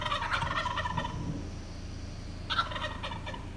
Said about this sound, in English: They're just demon turkeys.